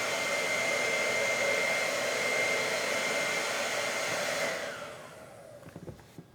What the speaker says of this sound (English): I can't dry the whole thing with the hairdryer